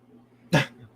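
A single short dog yelp or bark close by, one sharp burst against a quiet low hum.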